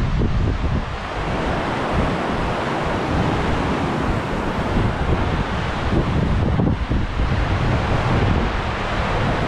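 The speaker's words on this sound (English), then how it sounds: "wind is pretty brutal today" Strong, gusty wind buffets a hiking trail along the Eagle Trail in Peninsula State Park, Door County, a steady, loud roar with heavy low rumble of wind against the microphone throughout, no voices.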